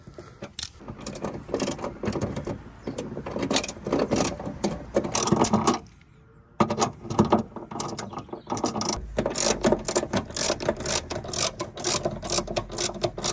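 A ratchet undoing three 10mm bolts on the rear wiper motor of a VW Polo 9N produces dense, fast clicking in long bursts with a brief pause between them, loud and close.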